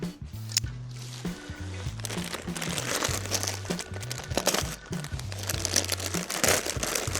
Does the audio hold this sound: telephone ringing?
no